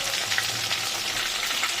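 Potatoes and a Bhetki fish head fry in hot oil with a continuous crackling sizzle, close and even throughout, and no voices.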